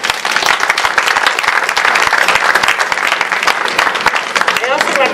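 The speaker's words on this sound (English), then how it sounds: "please give yourself a well-rounded applause" Audience applause at the unveiling of a Cleveland Public Library Ohio historical marker, dense steady clapping from a crowd held at full strength throughout, with a faint voice surfacing near the end.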